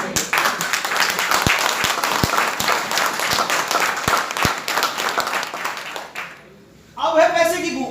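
Audience applause fills a meeting hall with a dense, steady wash of clapping and a few sharper claps on top. It fades out near the end, and a voice then speaks.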